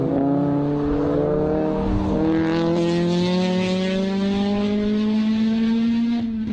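A Mini fitted with a Honda VTEC engine races a new Mini at Calder, its engine note climbing steadily in pitch under hard acceleration, loud and close with a continuous strained drone throughout.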